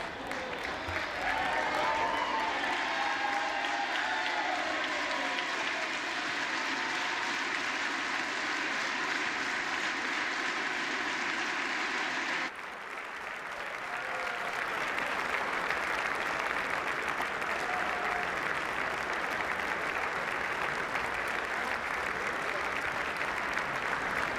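A crowd in the House chamber cheers and applauds steadily after the Speaker of the House vote, a dense sustained roar of clapping and voices that dips briefly midway and then swells again.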